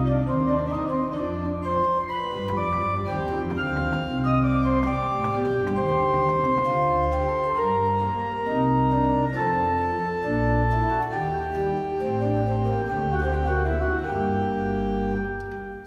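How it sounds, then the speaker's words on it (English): An 1806 Schiörlin pipe organ in Gammalkil church plays a flowing trio passage on the principal 4 and viola da gamba stops, sustained overlapping notes in a continuous, moderately loud texture with no talking. "I could either do the principal 4 with the viola da gamba, which would sound something like this."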